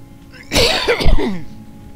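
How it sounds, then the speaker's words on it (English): A single short burst of coughing or throat clearing, close and fairly loud, lasting about a second against a quiet background. "Sorry about the coughing."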